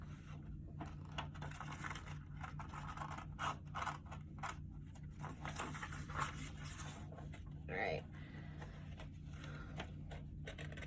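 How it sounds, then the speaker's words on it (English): Scissors snip paper for a Mother's Day craft, cutting close along a line in short scratchy bursts, with quiet pauses and faint background hum; no one talks. "We want clean cutting, because these are for our mom"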